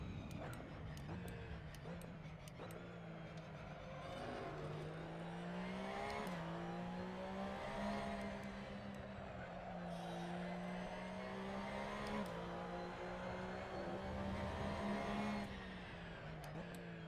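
Race car engine in the Assetto Corsa sim holding steady revs through laps after warm-up, a continuous droning note rising and dipping with throttle and gear changes, with faint tire noise and no talk.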